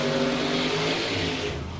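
A blown hot rod drag race car at the water box in Floresville, Texas, runs a loud, steady supercharged engine roar with harmonic drone, close and continuous without pause, easing slightly toward the end.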